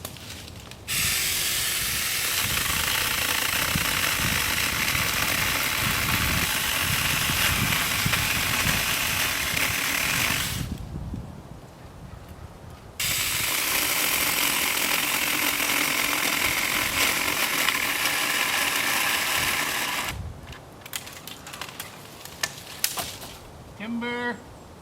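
Chainsaw cutting a tree off at its base outdoors, loud rough running in two long bursts separated by a brief idle pause, then winding down with scattered rattles at the end.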